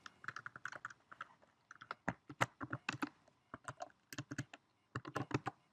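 Fingers type on a computer keyboard while app code is being written, bursts of crisp, close key clicks with brief pauses between runs, no voices.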